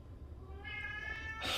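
A cat meows at length somewhere in a busy family house, a drawn-out wailing cry that rises near the end, heard alone over a low background hum.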